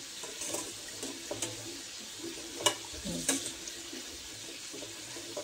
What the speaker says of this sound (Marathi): डाळ थोडीशी बारीक करून घ्यायची